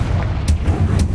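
Confringo spell blasts in Hogwarts Legacy combat land as a quick series of loud, punchy booms with sharp cracking onsets, about three distinct hits in close succession over a rumbling low background, no talk.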